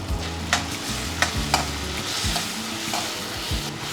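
Onions frying until reddish in a pan for baby corn masala, with coriander added, give a loud, steady sizzle under repeated scraping stirs and occasional sharp clicks of the spoon against the pan.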